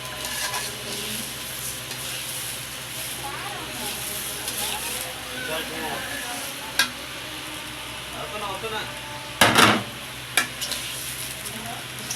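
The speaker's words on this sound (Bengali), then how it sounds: "আমি মিডিয়াম আছে চালগুলো ভেজে নিচ্ছি।" Rice stir-fried with chopped carrots in a pan over medium heat, a steady close sizzle and hiss with stirring scrapes and a few sharp clinks of utensil on pan, with quiet voices talking in the background.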